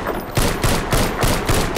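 Rapid pistol fire in Garry's Mod, with six or seven loud, close shots at a steady quick rhythm over a sustained noisy background, no talking.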